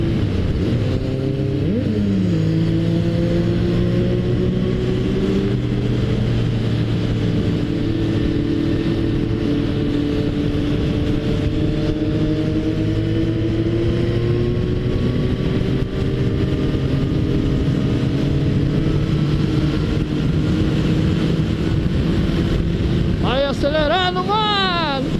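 A Suzuki Bandit 1250 motorcycle accelerates hard on the Dutra highway, its engine pitch climbing through the gears in long rising sweeps under heavy wind roar, loud and close throughout.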